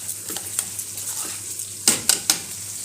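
Fish and rice cooking in a home kitchen: a pan fries with a soft continuous sizzle while a utensil stirs, then three sharp scrapes and clinks against the pan near the end, close up and with no talking.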